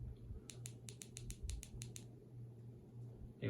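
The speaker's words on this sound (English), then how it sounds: "Maybe I'm not clicking it fast enough." Rapid series of about ten small clicks from the tail button of a Brinyte E18 Pheme EDC flashlight, evenly spaced and fairly faint over a low steady hum, stopping after two seconds.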